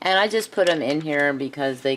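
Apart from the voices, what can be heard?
No distinct noise like a dog, phone or traffic.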